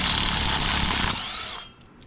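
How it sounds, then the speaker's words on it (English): A power tool whirs loudly while the brake rotor bolts come off a Harley Davidson touring motorcycle, then winds down and stops after about a second and a half, ending with light metallic clicks. "what we want to do is remove these high bolts"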